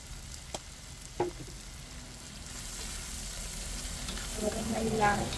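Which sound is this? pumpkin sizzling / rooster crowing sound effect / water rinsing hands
pumpkin sizzling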